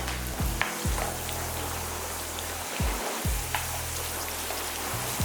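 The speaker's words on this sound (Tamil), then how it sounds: "இதுலேயே நல்லா பொரியட்டும்" Cashews and raisins frying in a pan of ghee for temple-style sweet pongal, a steady soft sizzle with a few low scraping stirs, close and alone with no talk.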